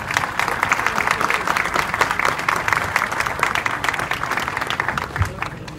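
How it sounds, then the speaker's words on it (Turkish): An audience at an office opening ceremony in Antalya applauds the company team, with loud, continuous clapping from a crowd throughout and a few voices mixed in. "Bir onlara bir alkış istiyorum sizden."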